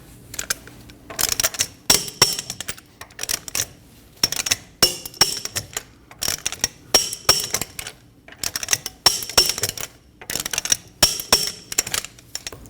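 A torque wrench with a 17mm socket tightens lug studs on a Volkswagen Passat in a star pattern, giving repeated bursts of sharp metallic ratcheting clicks separated by short pauses, close and clear.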